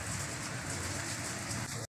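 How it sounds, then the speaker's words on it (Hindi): Heavy rain falling hard, a dense, even hiss of drops pattering on surfaces that holds steady until it cuts off abruptly at the end. "ये देखो भाई इतनी तेज बारिश हो रहा है"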